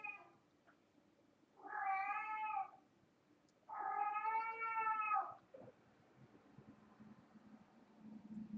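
A cat cries with two long, drawn-out wailing meows, each lasting over a second and separated by a short pause, heard fairly close over a faint steady background hiss.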